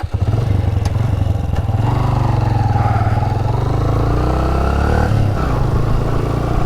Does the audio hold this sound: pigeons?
no